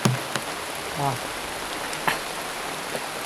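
Heavy rain falls in a constant broadband hiss with scattered louder drops and knocks, and faint fragments of a voice surface briefly beneath it.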